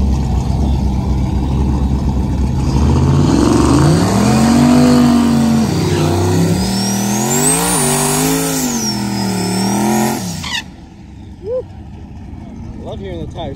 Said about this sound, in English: Love hearing the tires stick.